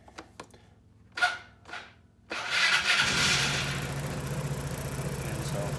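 A Vespa GTS 250 scooter fitted with a SIP cluster, with a few clicks and a short cranking burst before the engine catches and settles into a steady idle nearby.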